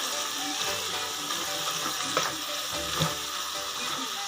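Vegetables for avarekalu pulao sizzle and fry steadily in a pan, a soft continuous crackle at moderate level with occasional stirring clinks.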